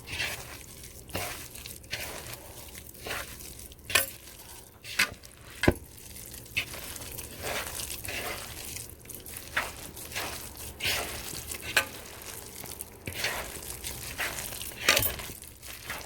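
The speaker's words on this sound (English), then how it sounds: "Some fresh cut scallion, and I'm gonna give it a mix" Salmon cake mixture with fresh cut scallion being stirred in a bowl, giving soft, wet squishing and crinkling sounds with scattered sharper knocks, close and steady throughout, no talking.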